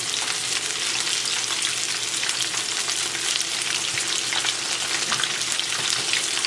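Oyster mushrooms fry in oil in a pan, giving a steady, dense sizzle and crackle that stays close and even throughout with no talking.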